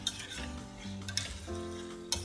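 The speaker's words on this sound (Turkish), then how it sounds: "Koyduğum baharatlarla da şöyle 1-2 dakika daha kavrulsun, altını kapatacağım." Gözleme filling of minced meat, peppers and spices sizzles and fries in a pan, a soft continuous crackle with a few faint stirring clinks, close but quiet.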